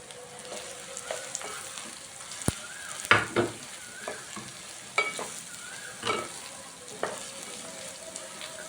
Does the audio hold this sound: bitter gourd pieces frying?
yes